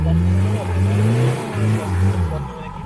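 A small Suzuki Vitara's engine drones and revs in steady harmonic surges as it plows through a deep pond, loud and close with splashing wash underneath.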